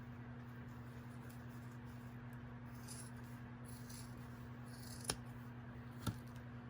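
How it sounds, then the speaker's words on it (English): Scissors cutting through socks, quiet snipping and rubbing under a steady background hum, ending in two sharp close clicks of the blades, with no talking. "So we want to cut our socks right off at the top of the heel."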